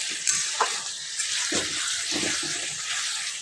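Masala spiced with Kashmiri red chili powder sizzles in a pan after a splash of water, a steady bright hiss with soft scraping stir strokes underneath, close and continuous for a chicken dish.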